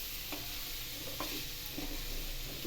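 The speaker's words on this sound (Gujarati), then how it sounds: "તેને ધીમે ધીમે હલાવતા જઈએ" Grated red carrots for Gujarati gajar halwa are stirred slowly in a pan, soft scraping strokes every second or so over a faint steady sizzle, with no voices.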